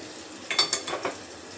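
Green chillies sputtering in hot oil for a tempering, with a few quick sizzling bursts and light clinks of a spatula against the pan, close and brief, with no voices.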